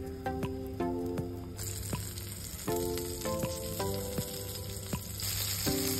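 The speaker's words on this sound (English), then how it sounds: "Next, it's time to cook the fish." A floured fish fillet fries in a pan for fish piccata, a soft, steady sizzle with occasional sharp clicks, heard beneath gentle background music with no talk.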